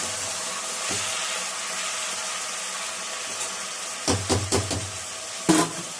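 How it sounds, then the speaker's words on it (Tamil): Ingredients sauté in a pan in a home kitchen, giving a steady, moderate sizzle and hiss. A few knocks, likely a utensil against the pan, come near the end. "நல்லா வதங்குது பார்த்தீங்களா?"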